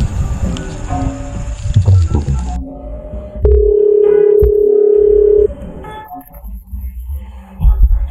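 Phone tones from a mobile being used to call a number: a mix of short beeps and a long steady tone that holds for about two seconds, close and clear, with some background noise around them.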